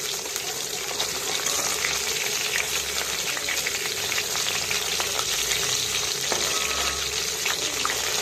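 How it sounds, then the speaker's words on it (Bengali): Steady, loud sizzling of mrigal fish frying in hot oil, with crackles and pops throughout and no talking. "ভালো করে ভেজে নেব।"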